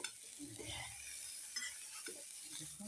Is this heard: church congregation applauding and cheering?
no